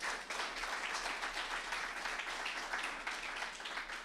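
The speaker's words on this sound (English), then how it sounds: "So a round of applause to both those governments." A meeting audience at an annual general meeting gives a round of applause, a dense, moderately faint patter of many hands clapping steadily throughout.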